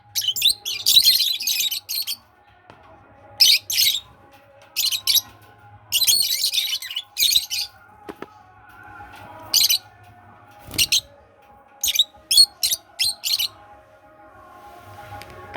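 Pet lovebirds at home chirp in repeated bursts of sharp, high tweets and calls, fairly close and clear, separated by short pauses over a faint background hum.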